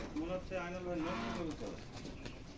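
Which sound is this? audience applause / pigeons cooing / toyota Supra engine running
pigeons cooing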